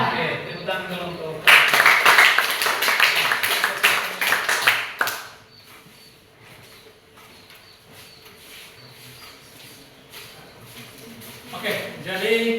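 A classroom group claps hands in a dense burst of many quick, close claps that runs a few seconds and then stops abruptly, followed by quieter room noise and talk.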